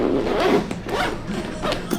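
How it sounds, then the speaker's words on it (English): A camera bag's zipper is drawn closed in one continuous, close-up raspy pull lasting about two seconds, with a few slight changes in speed along the way. "Zip this up."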